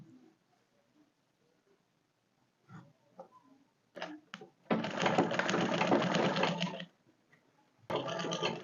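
A sewing machine stitches a dress side seam in two bursts, a long steady run of about two seconds and then a shorter one, preceded by scattered clicks and handling taps.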